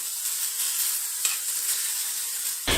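Chopped ridge gourd sautéing over medium heat in a pan for a chutney, giving a loud, continuous sizzling hiss with a brief scrape of stirring near the end.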